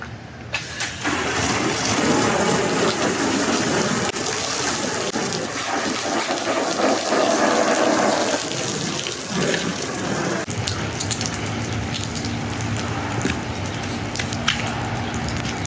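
Water sprays hard and continuously from a hose rinsing an RV awning, its hiss shifting in tone as the stream moves, with no talking.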